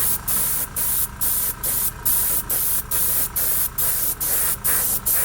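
An airbrush sprays straight, unthinned craft acrylic paint in about a dozen even, rhythmic bursts of steady hiss, close and loud, with only short gaps between them.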